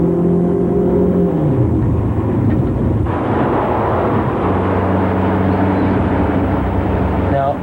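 Loud car engine drone rising in pitch as it accelerates hard to 5,000 RPM, with a booming roar filling the cabin.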